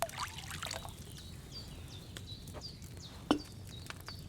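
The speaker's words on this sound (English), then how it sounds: "So, what did you pour in there? Wine, of course." Wine pours into a cauldron in Kingdom Come: Deliverance 2, a short liquid splash and trickle at the start followed by faint chirps and a soft clunk, fairly quiet overall.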